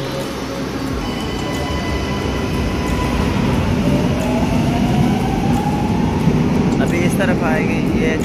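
A Milan metro train rumbles steadily with whining motor tones that rise and fall as it runs, a close, continuous roar of wheels and car noise with a faint voice underneath.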